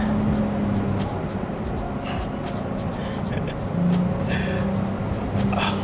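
BMW M4 all-wheel-drive sports car driving, a steady loud engine and road drone running throughout, with people talking over it.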